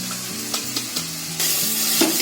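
Ground dry spices for jeera aloo sizzle loudly in a pan with a little water, close and continuous, marked by several stirring scrapes and a sudden jump in hiss midway.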